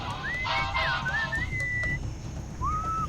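Melodic whistling from the video game Sam & Max, a few short sliding whistled phrases with a pause before a final rising note, heard over a low background hum.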